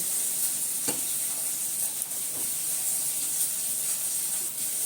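Ghee and semolina sizzle steadily in hot oil in a home kitchen, a constant close frying hiss with faint stirring clicks and no voices.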